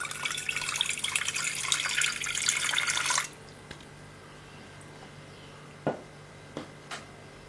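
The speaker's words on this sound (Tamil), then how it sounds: "முதல்ல கொஞ்சமாக தண்ணி சேர்த்துக்கலாம்." Water pouring steadily into a cooking pot for a mushroom soup for about three seconds, then stopping, followed by a few quiet clinks and taps.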